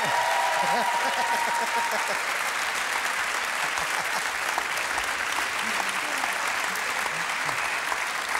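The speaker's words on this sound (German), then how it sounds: "dass man in Köln so viel Applaus kriegt" Studio audience applause on a TV talk show greeting a football guest, sustained and even clapping from a large crowd with a few whoops, while a host's voice briefly cuts in near the start.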